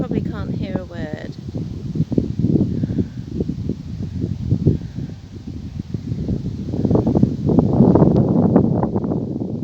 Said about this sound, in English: the wind is really quite ferocious here, so you probably can't hear a word